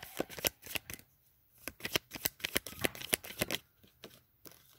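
Tarot cards being shuffled up close, quick riffling bursts of papery flicks in an irregular rhythm with short pauses, clear and alone.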